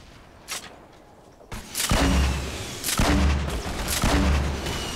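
Heavy booming gunshots ring out in Fortnite Battle Royale, a faint pop first and then three or four loud, deep blasts spaced about a second apart.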